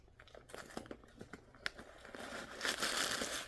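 Paper stuffing is pulled out of a Coach Swinger 20 crystal jacquard handbag. Soft ticks and rustles build into a louder, continuous crinkling and crumpling of paper, heard up close.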